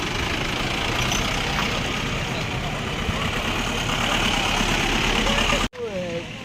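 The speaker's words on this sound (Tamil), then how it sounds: "வண்டிகளாக தொடர்ந்து வருது பாருங்கள்." Vehicles pass continuously along a road on the walking route to the Kannagi temple, their engines producing a steady, close rumble throughout, cut briefly near the end.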